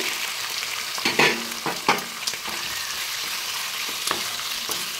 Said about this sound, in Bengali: কড়াইতে তেলও দিয়ে দিয়েছি। তো চিংড়ি মাছটা এখন হালকা করে ভেজে নেব।